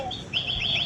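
Electronic toy birds chirp in quick, repeated high tweets, a steady mechanical pattern with faint low hum beneath, no voices.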